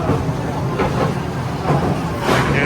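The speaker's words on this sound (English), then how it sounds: "There's the train." A train passes at the Six Flags Over Texas amusement park, a steady rolling rumble with faint rhythmic clatter that swells near the end, heard over crowd noise and bits of voices.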